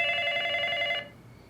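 A landline telephone in a TV comedy rings once with a bright, buzzy electronic trill that stops abruptly after about a second, leaving near silence.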